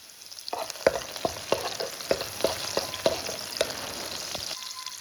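Food frying in a pan over a gas stove, with a steady close sizzle punctuated by a regular series of sharp utensil clicks and scrapes as it is stirred.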